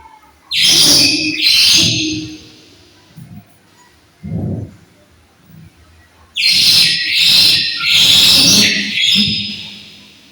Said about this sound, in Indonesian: Saya terdengar suara kicauan burung yang sangat merdu.